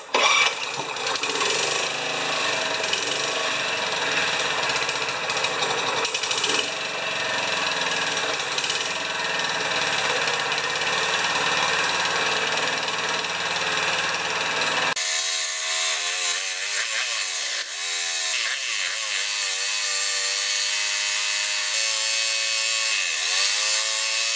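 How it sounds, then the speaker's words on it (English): Honda HRA214 lawn mower engine at high throttle with a loose part, a steady loud buzzing drone that runs continuously and shifts in tone partway through, with no talking. "So right there, that is on high throttle and it's loose."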